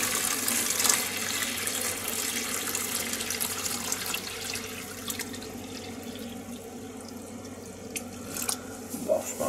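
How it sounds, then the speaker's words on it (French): Water pours from a jug into a tub in a continuous close gurgling splash that holds steady for several seconds before thinning toward the end. "Donc j'ai mon bidon d'eau. On va remplir une partie du bac."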